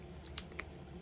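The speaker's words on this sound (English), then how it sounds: "I'm going to snip this little piece right here" Scissors give two quick, faint snips as they trim a small piece of paper for a scrapbook layout.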